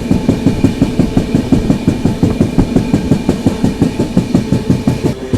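A Mahakoshal Express train rolls steadily along the tracks near Agra Cantt station, its wheels clacking in a regular rhythm over a low rumbling drone, with no voices.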